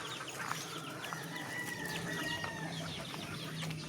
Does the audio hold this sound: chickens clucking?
yes